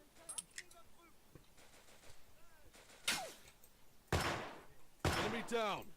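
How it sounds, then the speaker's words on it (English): Revolver gunshots in the Easy Red war game: three sharp reports with ringing tails, growing louder toward the end, mixed with quieter clatter and game sounds, no speech over them. "I don't guess a revolver is the best long-distance sniper."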